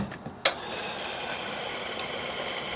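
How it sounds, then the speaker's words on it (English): A car engine runs at a steady idle in a BP and Amoco gasoline advertisement, a continuous mid-pitched hum with light vibration after a brief sharp click near the start, with no talking. "This is the sound of your engine getting clean."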